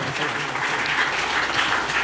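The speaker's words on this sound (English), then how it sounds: "I would like you all to give Pundit and group a round of applause" Applause from a temple audience at a Ganesh Utsav celebration for a pundit and his musical group, a steady, dense clapping that fills the whole stretch at close range with no talk over it.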